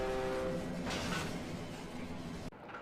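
A train passes in the horror video game Cry of Fear, a steady heavy rumble with a brief horn-like tone at the start that cuts off abruptly near the end.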